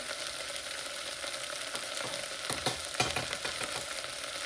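Chilli and spices sizzle and crackle in hot oil, a constant hiss with a few sharper pops midway and faint stirring, close by with no talking.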